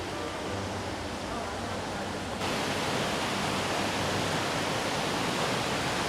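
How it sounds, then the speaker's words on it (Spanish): A waterfall pours into the middle of the Cueva del Esplendor cave, a loud, constant roar of falling water that swells even stronger partway through. "Miren lo que es esa cascada, amigos. Cae en el medio de la cueva."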